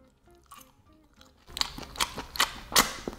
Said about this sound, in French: Désolée pour les bruits de bouche.